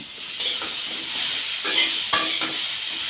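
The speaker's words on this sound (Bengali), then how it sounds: "এখন আমরা শশাগুলোকে দিয়ে দিচ্ছি সবগুলোই আগে ভালো করে একটু কষিয়ে নিচ্ছি" Cucumber pieces sizzle steadily as they are sautéed for a cucumber prawn curry, with a constant frying hiss and a few louder scraping stirs of the spatula in the pan.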